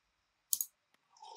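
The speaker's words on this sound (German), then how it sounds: "Nachdem ihr eine Abrechnungsoption ausgewählt habt, klickt ihr auf Erstellen." A pair of quick mouse clicks selecting a create button during Microsoft Advertising account setup, close and crisp in a quiet room, followed by a faint tick and then low background sound.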